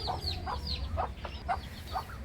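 A hen, recovering after medicine for an illness, clucks in a run of short, repeated calls at a steady pace, close by, over a low, constant background rumble.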